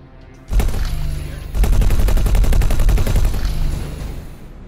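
Heavy beam weapons firing in the space game X4: Foundations, a loud sustained roar of rapid crackling bursts that swells after a short opening burst and holds steady, with no talk over it.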